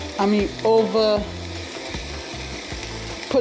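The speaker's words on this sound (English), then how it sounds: "So the Bay scallops are smaller, so they're gonna cook much quicker. So again, we're gonna put them in the pan." Small bay scallops sizzling and frying in a hot pan, a steady crackling hiss with a few brief clinks and scrapes of a utensil near the start.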